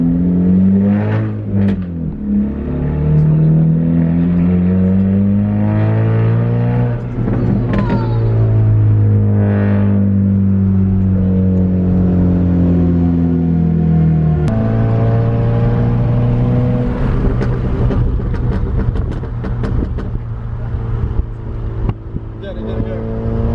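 A car pulls away after a car meet, its engine revving up through the gears again and again, each climb in pitch ending with a drop at the shift, heard from inside with people talking now and then.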